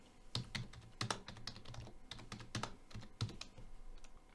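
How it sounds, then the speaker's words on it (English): Computer keyboard keys tapped during a Git command-line session, a run of crisp, close clicks and taps in an irregular rhythm with a few sharper strokes like an enter key, no voices. "Let's hit enter."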